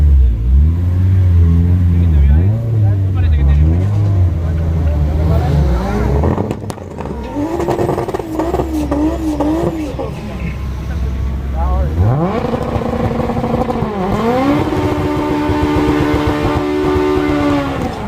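Drag racing cars launch and accelerate against a Toyota Supra, engines revving loud and near with rising harmonic sweeps and gear changes, people talking over the roar throughout.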